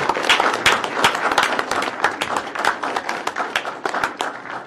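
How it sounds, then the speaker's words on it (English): A room full of people at a city council meeting claps for public works employees, a dense, steady burst of applause at close range with no talk over it. "Please give them a round of applause"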